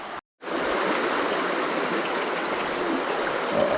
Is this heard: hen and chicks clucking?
no